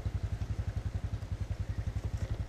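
An enduro motorcycle descends a steep forest trail on a mountainside, its engine giving a low, rapid, pulsing throb at close range that holds steady throughout.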